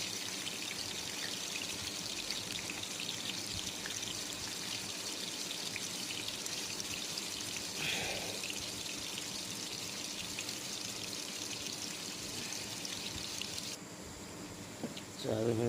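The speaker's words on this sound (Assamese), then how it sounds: "তাতে ৰিফাইনত চয়াবিন ফ্ৰাই কৰি আছোঁ।" Soybean chunks fry in refined oil in a pan, giving a continuous even sizzle close by that carries on steadily and quietens near the end before a short clatter.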